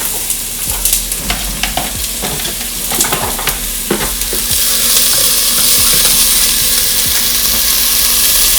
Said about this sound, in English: So first we're going to add our red onion.